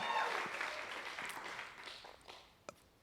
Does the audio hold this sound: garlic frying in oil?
no